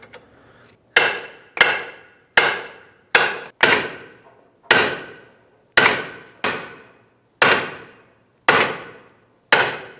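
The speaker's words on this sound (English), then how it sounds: "I'm going to use a smaller pry bar and hold pressure down, but also hammer at the same time." Sharp metallic hammer strikes on a pry bar against a lower control arm ball joint of a 2003-2007 Nissan Murano, about eleven blows in a steady rhythm with brief ringing decay after each, close and loud, no talking.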